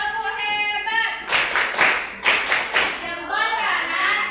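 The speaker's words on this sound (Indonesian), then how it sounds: "Tepuk hebat kita dulu yang untuk kelompok 1 ya, udah berani mereka maju." A classroom group does the rhythmic 'tepuk hebat' clapping chant, with several bursts of loud, sharp hand claps in a steady pattern, sung and chanted voices blending between and under the claps.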